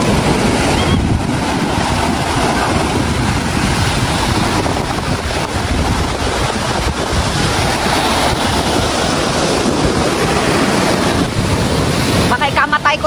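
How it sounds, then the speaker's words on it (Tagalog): Big, strong ocean waves at high tide crash and roar continuously at a Davao surfing spot, loud and close, with heavy wind buffeting the microphone. "Grabe ang alon, ayoko maligo."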